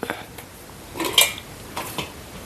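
A spoon clinks and scrapes against a vessel while ground rice batter is stirred with a pinch of salt, in a few close, light knocks and swishes over quiet room noise.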